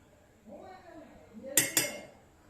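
A spoon works butter smooth in a bowl for garlic bread, giving two quick metallic clinks against the bowl, while a person talks softly just before.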